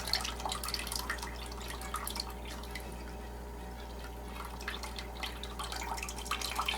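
Soaked acorn meal squeezed by hand, water dripping and trickling steadily into a bowl of dark tannin-stained water, close and fairly quiet over a low constant hum.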